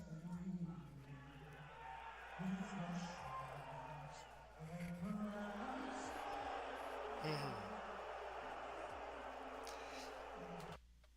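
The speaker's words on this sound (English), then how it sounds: "That is a loud boo." A large political crowd booing loudly, a sustained roar of massed voices with rising and falling low drawn-out boos, heard from a distance and filling the whole stretch.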